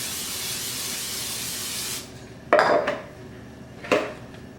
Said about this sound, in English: So now I'll spray the inside of my bowl.